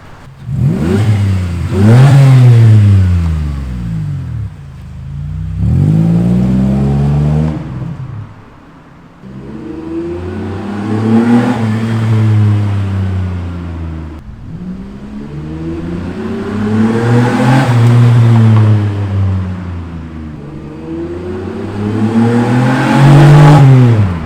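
A modified, lowered car's engine revs repeatedly, five or six rising and falling vroom surges recorded loud and close, with no voices.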